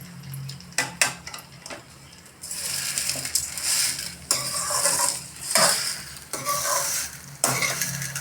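Jaggery stirred into red chilli garlic chutney in a pan: loud metal spoon scrapes and clinks against the pan in irregular bursts over a continuous frying sizzle.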